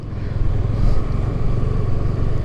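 Motorcycle riding along an Indian highway between Hyderabad and Nagpur, a steady engine drone and wind rumble mixed with passing traffic, loud and continuous throughout.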